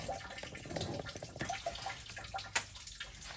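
Water pouring and trickling onto a shop floor during cylinder head work on a 1989 Freightliner cabover truck, a steady close splashing flow with a brief sharp knock near the end.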